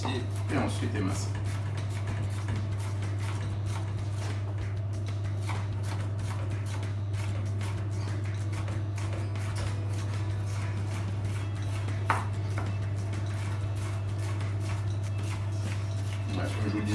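Vegetables, starting with a bell pepper, are sliced with a knife, giving sparse soft taps and scraping sounds up close over a constant low hum.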